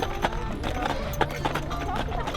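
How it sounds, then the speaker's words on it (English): Huge Belgian draft horses pull a hay ride around a farm, their hooves clip-clopping in a steady rhythm at close range while people talk over them. "One of the must-do activities here is the Belgian horse hay ride that takes you around the entire farm."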